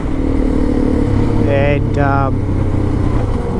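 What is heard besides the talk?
Suzuki DRZ400E motorcycle riding in the Simpson Desert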